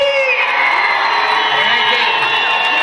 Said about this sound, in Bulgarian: нека още веднъж вашите първи аплодисменти за нашия бъдещ къмет